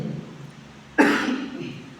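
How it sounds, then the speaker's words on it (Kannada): A single sharp cough bursts out from a speaker addressing students at a talk on exam fear, close and loud, then fades back into a quiet room. "ನಡು ಸ್ವಲ್ಪ ಕೆಮ್ತೀನಿ."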